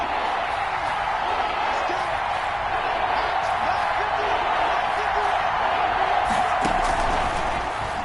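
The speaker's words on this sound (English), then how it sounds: "the crowd getting into it as we come up on a big 3rd down" A stadium crowd in an American football video game sends up a steady, roaring wash of cheers ahead of a big third down. A commentator's voice runs over the noise.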